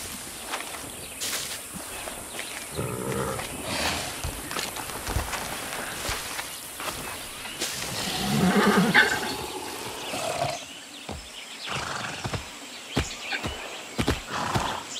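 A horse in the Far Cry 6 video game clip-clops along with irregular hoof thuds and rustling, rising to a louder snorting, whinny-like flurry midway amid scattered game sounds.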